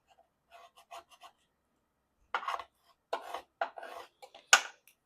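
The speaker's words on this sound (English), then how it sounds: "I'm going to burnish the front. And then burnish the back." A die-cut paper card is burnished by hand in short, dry rubbing scrapes, a few light strokes followed by a pause and then firmer, louder passes, close and quiet with no voices.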